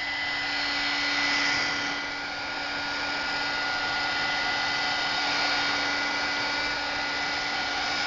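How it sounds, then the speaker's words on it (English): Heat gun blowing hot air over alcohol ink on a coffee-dyed paper tag: a steady, close whirring blower hum with a constant tonal whine, running unbroken for eight seconds with slight swells in loudness. "you're going to hit it with the heat gun, and it'll move it around"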